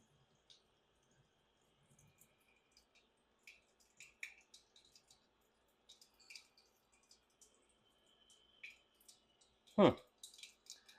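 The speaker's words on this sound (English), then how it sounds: "we're going to spill some coolant on the floor, but I'm going to try and see if we can see where this thing was leaking" Sparse, faint drips of coolant and water tap into a sink from the radiator of a 1963 Chevy C10 in an otherwise quiet room. Near the end a louder splash or pour is heard.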